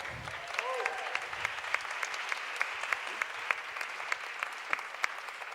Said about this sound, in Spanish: para quien le pido un fuerte aplauso, por favor